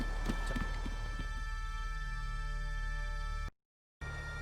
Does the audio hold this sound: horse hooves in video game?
yes